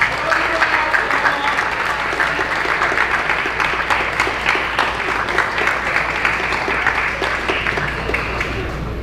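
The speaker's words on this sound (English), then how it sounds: "So let's give a round of applause." An audience at a 2023 school senior awards ceremony gives a sustained round of applause, dense overlapping clapping holding steady and fairly loud for the whole stretch, with faint crowd voices mixed in underneath.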